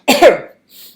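A single sharp, close cough bursting loudly, followed by a faint breathy exhale.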